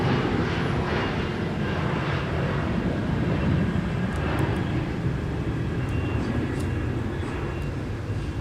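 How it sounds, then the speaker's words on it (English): A CRJ regional jet departs Minneapolis–St. Paul Airport, its engines a steady, loud broadband roar that holds evenly throughout, heard from a runway-side vantage with no talk. "we're going to get the departing CRJ here if the camera wants to focus"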